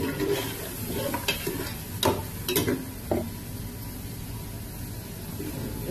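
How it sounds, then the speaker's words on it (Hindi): Pieces of meat coated in ginger garlic paste sauté in a pan, a soft sizzle under several sharp scraping stirs clustered in the first three seconds before the frying settles into a steady hiss. "मैं गोश्त की थोड़ी सी भुनाई करूँगी थोड़ी देर"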